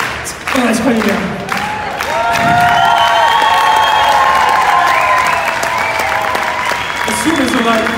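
An audience at a Comic Con cosplay contest in Dortmund breaks into loud, sustained clapping and cheering that swells and holds for several seconds, with a voice calling out through it.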